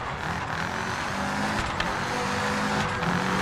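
Mini rally car in Dirt Rally on a German forest stage, its engine droning loud and steady close up, the tone wavering slightly with throttle changes throughout.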